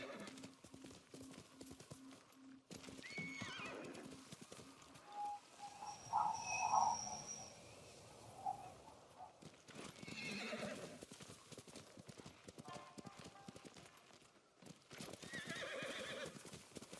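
A horse's hooves clop in a steady rhythm through the Ghost of Tsushima countryside, with a clear neigh midway and faint birdsong behind, moderately distant and without talk.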